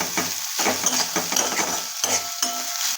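A spatula stirs green onion and spices in a sizzling pan with steady, rhythmic scraping strokes and continuous frying hiss, close up and without talk.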